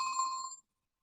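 A mobile phone ringing with a bright, clear electronic tone for about half a second before it cuts off into silence.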